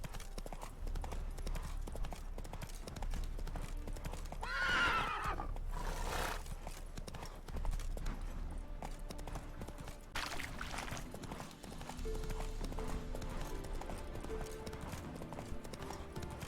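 A horse in The Witcher 3 video game, rhythmic hoofbeats clip-clopping steadily throughout with a loud whinny partway through, over a constant low game background.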